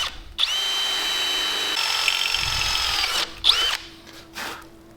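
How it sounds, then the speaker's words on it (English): Power drill boring into a muscle car subframe, a continuous loud whine for about three seconds, then brief bursts of drilling and mechanical clatter. "we're gonna drill and tap this so we can just bolt that on"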